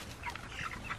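Brief clucking from chickens on a farm at loading time, a few soft overlapping clucks close by over a low steady background murmur.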